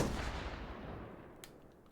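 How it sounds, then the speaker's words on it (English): A single .50 cal rifle shot in Hot Dogs Horseshoes & Hand Grenades lands as a loud, heavy boom at the very start and then rumbles away over the next two seconds. "Just a one-shot 50 cal."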